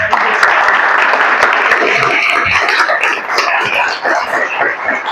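Audience applause fills a hall after a talk to parents, steady dense clapping with a few voices mixed in, loud and sustained throughout.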